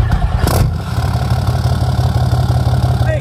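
A 4th-generation Cummins diesel truck engine running on a new tune: a brief sharp burst near the start, then a steady, loud, rumbling idle that continues alone.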